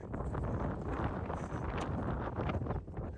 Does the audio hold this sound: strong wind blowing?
yes